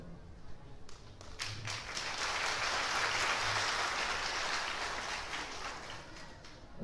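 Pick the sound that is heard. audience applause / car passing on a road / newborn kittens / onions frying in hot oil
audience applause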